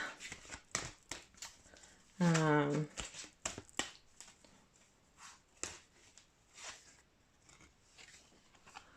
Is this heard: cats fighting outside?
no